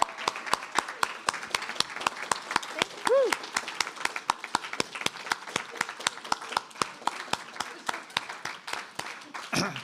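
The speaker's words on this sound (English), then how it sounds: "Another big round of applause for Nicole Georges and Samiya Bashir." An audience claps loudly and continuously after a faculty presentation, a dense round of applause that carries on for the whole stretch, with a brief voice rising above it partway through.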